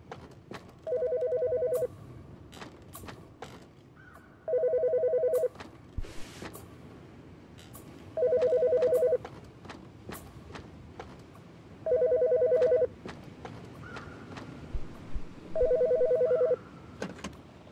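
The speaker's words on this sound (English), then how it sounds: "Phone is ringing." A telephone rings in the horror video game The Chaput's Baby, five evenly spaced electronic ring bursts, each about a second long, separated by roughly three-second pauses, with faint clicks and movement sounds between rings.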